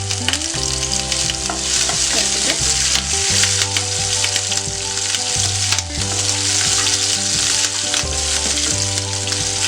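Green chillies and curry leaves frying hard on a high flame, a loud, dense, unbroken sizzle with the hum of a burner or fan beneath, close and without speech.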